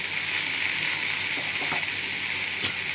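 Spices stirred in a hot frying pan for fish head chorchori, a steady close sizzle with a few soft scraping strokes of the spatula, no voices.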